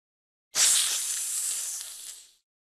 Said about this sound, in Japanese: ヘビ。